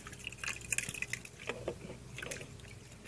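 Water poured into a large container while preparing solid rain, a soft liquid trickle with scattered drips and splashes, faint and close.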